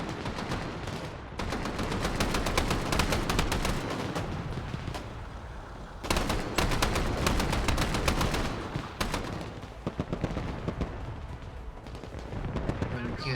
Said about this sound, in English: it does still have a machine gun, which can provide fire support against this enemy